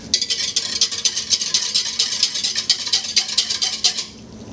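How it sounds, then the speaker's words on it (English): A whisk beats a plant tissue culture mixture of distilled water in a container, a fast steady run of metallic scraping strokes for about four seconds, close and fairly loud, then stopping. "and then whisk it up."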